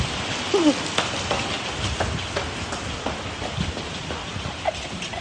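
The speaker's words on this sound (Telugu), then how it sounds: "దెబ్బ వాన్ చేస్తుంది." Heavy rain pouring down in Kuwait around a parked vehicle, a dense steady wash of falling water with scattered louder drips and splashes, close and continuous throughout.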